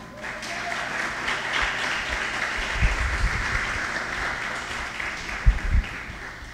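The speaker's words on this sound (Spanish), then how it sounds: "Aplausos para Dios, amado." A church congregation claps steadily in sustained applause that fills the space, with a few low thumps near the end.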